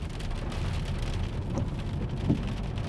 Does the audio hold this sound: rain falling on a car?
yes